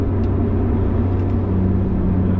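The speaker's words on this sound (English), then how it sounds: "Obviously, you have the sound of the engine." Steady low drone of a 2020 Lotus Evora GT's engine and exhaust cruising at 60 mph, heard from inside the cabin as a constant hum with road noise and no talk.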